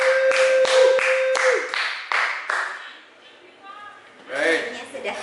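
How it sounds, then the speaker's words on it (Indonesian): A small audience claps for a prize winner at a tax software update session, several distinct sharp claps in a quick rhythm close by, dying out after about three seconds before a voice continues. "Mana tepuk tangannya buat pemenangnya?"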